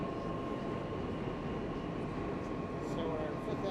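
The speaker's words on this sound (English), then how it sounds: "here we are on the Q train, 5th Avenue and 59th Street" A New York subway Q train rides between stations near 5th Avenue and 59th Street, a steady loud rumble of wheels and car noise with a faint whine, continuous from start to end.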